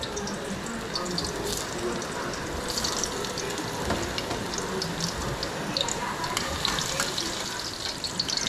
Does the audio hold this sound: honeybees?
no